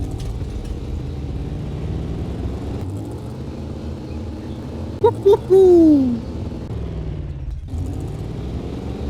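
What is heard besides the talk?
car engine idling and revving in video game 7 Days To Die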